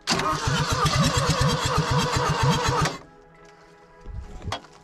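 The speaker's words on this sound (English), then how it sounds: "hopefully it's going to start just to prove that the engine will fire" An abandoned Vauxhall Nova, left in a field for 17 years, cranks loudly with a rapid rhythmic starter churn for about three seconds, then falls quiet before a brief faint sputter as the engine tries to fire.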